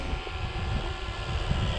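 A model airplane makes a slow, close pass, its motor a steady continuous drone that swells slightly toward the end, with some wind in the background.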